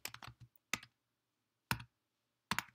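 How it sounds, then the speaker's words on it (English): A student's name being typed on a computer keyboard: a quick cluster of close key clicks, then three separate isolated keystrokes spaced apart in a quiet room. "he's going to type in his name"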